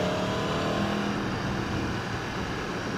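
A 2017 Aprilia Tuono Factory motorcycle accelerates near a gravel pit, its engine a loud, steady, close roar throughout the short stretch.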